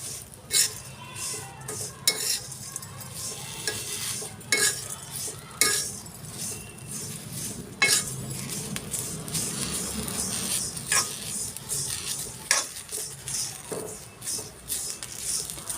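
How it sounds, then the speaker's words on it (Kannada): Chopped green chilies and mint sautéing in a pan for chutney, with a low steady sizzle under repeated scraping and clinking of a spoon against the pan, moderately quiet. "ಈ ಸಂದರ್ಭದಲ್ಲಿ ಪುದೀನ ಕೂಡ ಹಾಕ್ಕೊಳ್ತಾ ಇದ್ದೀನಿ ಸ್ವಲ್ಪ ಬಾಡಿಸ್ಕೊಳ್ಳೋಣ"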